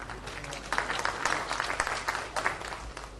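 An audience in a seminar hall applauds, a steady patter of many hands clapping at moderate distance that carries through the whole short stretch without pause.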